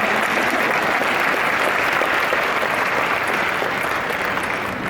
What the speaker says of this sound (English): Clapping and I might go faster.